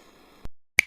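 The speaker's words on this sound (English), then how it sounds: "snap," Two crisp finger snaps, close and isolated against silence, the second sharper and brighter than the first.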